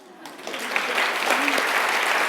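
Audience applause at a WIRED 2013 talk, a dense crowd clapping that swells quickly from a quiet start and holds steady and loud, with a faint voice underneath.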